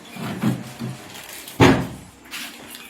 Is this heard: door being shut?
yes